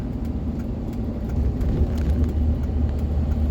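A 2006 Ram 3500 Cummins diesel pickup with a G56 manual and Gear Vendors overdrive cruises on the highway, heard as a steady low engine rumble and road drone from inside the cab.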